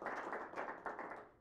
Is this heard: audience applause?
yes